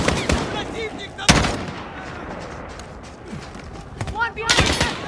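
Gunfire in a military shooter video game: sharp bursts of automatic fire, loud and close, with shouted squad voice chatter running underneath throughout.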